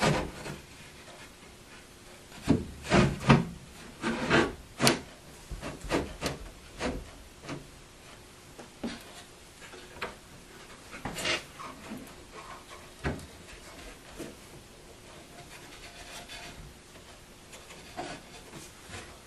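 Wooden speaker panel on a MAME arcade cabinet being pushed up and slid back onto cleats, a tight fit, giving scattered close rubbing scrapes and soft knocks of wood on wood in short bursts, loudest early on, with no talking.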